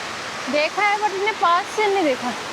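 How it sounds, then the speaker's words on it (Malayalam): A waterfall in Armenia roars with a steady wash of rushing water, close and constant, while people talk over it. "നല്ല സൗണ്ട് ഉണ്ടാവും വെള്ളത്തിന്റെ കേട്ടാ"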